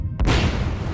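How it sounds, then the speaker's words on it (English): A propane reboiler bursts violently in an explosion: a single sudden loud boom followed by a roaring, rumbling wash of sound that stays loud to the end. "Just 3 minutes later, the reboiler violently ruptured."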